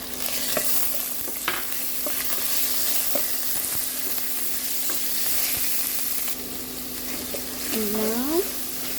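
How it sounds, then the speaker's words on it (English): Onion and lamb mince fry in a pan while being stirred, a steady close sizzle with scraping strokes throughout and a brief tap-water splash near the end. "Fry it, the onion, and add our lamb mince."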